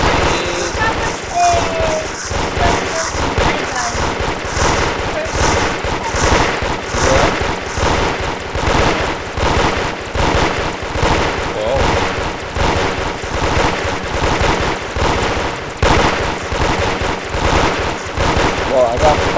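Towers in the Roblox Toilet Tower Defense video game fire rapidly in a dense, constant stream of crackling shots, with a voice talking over them throughout.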